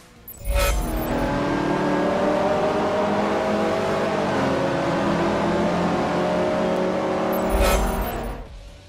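Racing car engine in the Forza Motorsport 4 racing sim, loud and sustained with a steady high drone and rising, shifting harmonics, a burst of noise near the start and again near the end, with no talking.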